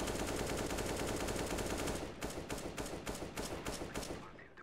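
Rapid automatic gunfire crackles continuously for about two seconds in a video game, then breaks into a string of separate, evenly spaced loud shots that trail off.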